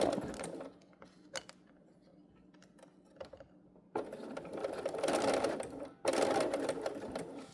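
A sewing machine fitted with a zipper foot stitches a seam, starting with a few short, quiet runs and scattered clicks, then two long, loud bursts of steady rapid stitching at close range.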